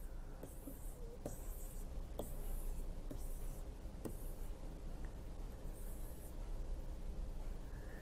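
Pen drawing a polymer network diagram during a lecture, quiet scratchy strokes and taps in short bursts over a hissy background, no speech heard.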